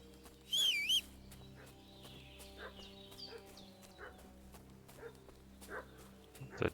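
A dog barks briefly once in a medieval open-world video game, a short burst over quiet ambient background with faint birds and distant sounds.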